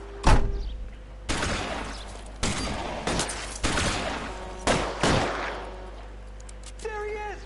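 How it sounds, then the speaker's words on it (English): Tommy gun gunfire in the L.A. Noire video game: about eight loud, close bursts of rapid automatic fire at uneven intervals, each ending in a short ringing decay. "Tommy gun."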